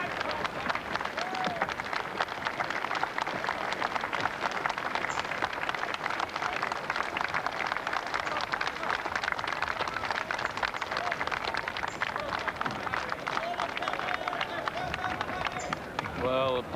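Racecourse crowd at the 1982 Benson & Hedges Gold Cup gives sustained applause and cheering as champion Assert, ridden by Pat Eddery, enters the unsaddling enclosure, a dense wash of clapping with voices mixed through.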